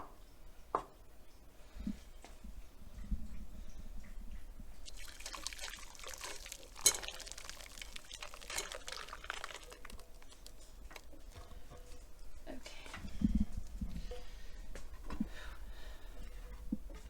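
Eggnog being strained in a home kitchen: a steady, faint pour of thick liquid with soft patter and drips, plus occasional utensil clinks, running continuously.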